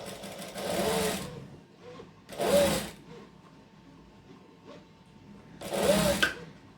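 Sewing machine stitching a shirt sleeve from a Burda 6840 pattern, three separate bursts of rapid mechanical whirring with quiet gaps between, close and moderately loud.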